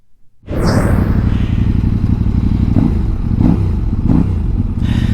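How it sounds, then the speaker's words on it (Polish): A KOVE 800X Pro adventure motorcycle engine starts abruptly and idles with a rough, gravelly rumble, steady and close, with a few revving blips. "ten motocykl nawet fajnie brzmi. Jest taki chropowaty, taki kostropaty."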